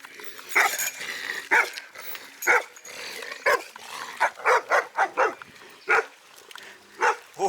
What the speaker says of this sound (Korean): 이곳이 아니라고 멍멍이들이 단숨에 알려주네.